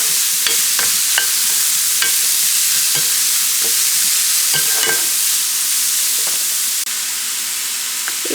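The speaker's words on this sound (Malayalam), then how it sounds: "ബീട്രൂട്ടും ക്യാരറ്റും ഇട്ട് കൊടുക്കുക. ഓക്കെ, ഇനി ഇത് നന്നായി ഒന്ന് വഴറ്റിയെടുക്കുക." Beetroot and carrot sautéing in a pan: a loud, constant hiss of frying under repeated scraping and clinking strokes of a spoon stirring the vegetables, close up.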